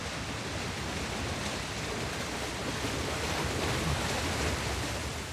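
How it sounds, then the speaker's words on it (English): Water rushes out of an ancient stone aqueduct in Uncharted: The Lost Legacy, a steady, dense, roaring gush that holds at one level throughout, with no talking. "Oh, water's coming out."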